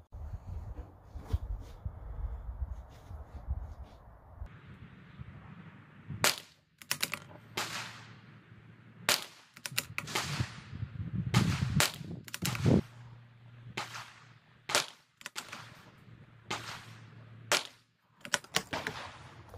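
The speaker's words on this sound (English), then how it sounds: "let's do some shooting." A CZ457 rimfire rifle fires CCI Standard Velocity ammunition, sharp, close cracks spaced a second or two apart, roughly a dozen shots in all, each with a quick decay.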